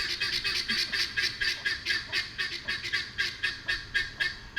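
Rapid, rhythmic honking calls from chickens and guinea fowl, a steady chattering chorus of poultry repeating close by with no talk.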